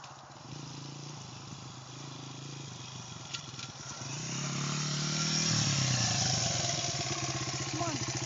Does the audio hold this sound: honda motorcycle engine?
yes